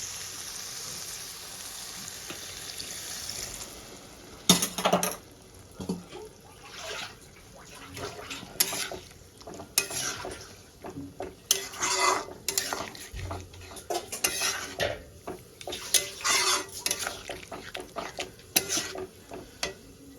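Water is poured into a pan of rohu fish curry with potatoes and spring onions and stirred with a utensil, giving irregular scraping clinks against the metal and soft sloshing, close and clear with no talking.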